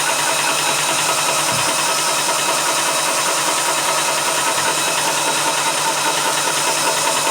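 A Vevor PCP 4500 PSI high pressure air compressor runs continuously close by, a loud, steady mechanical drone with a fine rapid knocking texture and no pauses.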